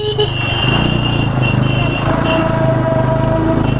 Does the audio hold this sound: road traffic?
yes